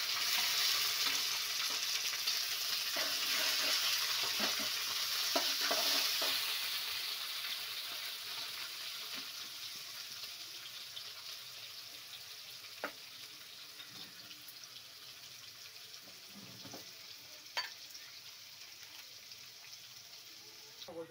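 Onions frying in a pan with green chili, curry leaves and garlic-ginger paste, a steady sizzle that is louder at first and then settles, with occasional clinks of a spoon stirring.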